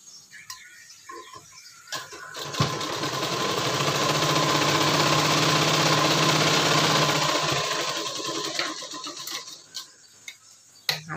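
Sewing machine running a continuous line of stitches through blouse fabric, a steady close whir lasting several seconds with short bursts and clicks of handling before and after.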